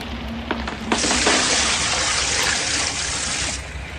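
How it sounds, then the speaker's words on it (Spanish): A bucket of water dumped onto a fire gives a sudden loud rushing splash and hiss that holds steady for a few seconds before cutting off, preceded by a couple of faint knocks. "Decididamente cogí un cubo de agua que vertí sobre las llamas."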